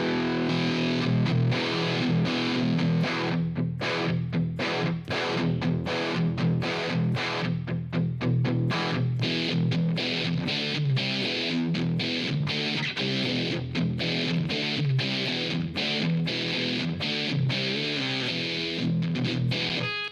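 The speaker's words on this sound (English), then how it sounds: "So I would recommend that a fuzz go into an overdrive amp like this" Heavily distorted electric guitar playing chugging, fuzzy riffs through a saturated amp, loud and continuous with short rhythmic stops.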